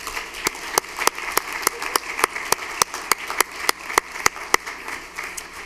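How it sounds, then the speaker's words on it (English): An audience claps for coaches at a school board meeting, a steady, evenly spaced run of crisp claps over a quiet room. "All right, let's give this group a round of applause, please."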